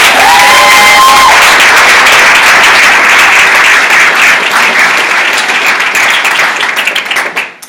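School audience at a middle school back-to-school night breaking into loud, sustained applause, a dense crowd of hands clapping close and steady before tapering off at the end.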